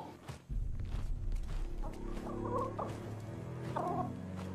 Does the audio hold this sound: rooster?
yes